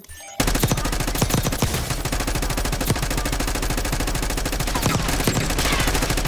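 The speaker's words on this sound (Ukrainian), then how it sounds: "А, десь ще стріляє. Збоку, з заправки." Dense, continuous automatic gunfire from an online shooter game, heavy rapid shots layered without pause after a brief quiet start, loud and close throughout.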